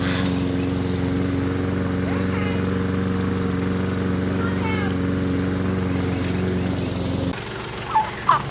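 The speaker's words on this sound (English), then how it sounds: "So he's just out there mowing" A lawn mower drones steadily as it mows dry, dusty ground, a loud constant engine hum that cuts off near the end, leaving quieter background sounds with a few faint bird-like calls.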